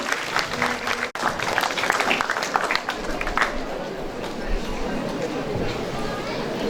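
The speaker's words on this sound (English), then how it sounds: "Let's give them a huge round of applause." An audience at a school Diwali celebration applauds the chief guests in a steady burst of clapping that fades toward the end, while a voice and crowd chatter carry on beneath it.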